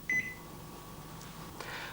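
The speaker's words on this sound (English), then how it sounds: "all you have to do is press vegetables on the control panel" A button press on a Panasonic microwave oven control panel gives a single short, bright electronic beep, followed by a faint hum and light clicks in a quiet room.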